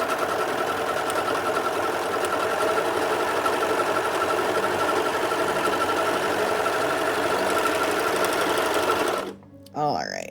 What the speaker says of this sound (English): So now we're on the serger portion of making the cuffs.